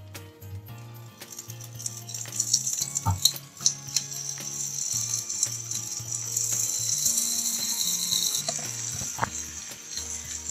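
Brinjal pieces laid one by one into hot oil for badanekayi palya, giving a steady, close sizzle and crackle with a few sharp clinks of the pieces and utensil hitting the pan.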